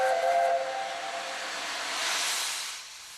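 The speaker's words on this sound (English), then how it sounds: "she boarded a steam train, the Union of South Africa, specially brought in for the occasion" Steam locomotive 60009 Union of South Africa at Tweedbank gives a shrill whistle blast that fades into a loud, sustained hiss of escaping steam, close by.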